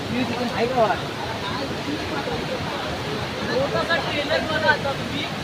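Rushing water at the Harchiri waterfall, a loud, constant broadband roar heard close by, with people talking over it throughout.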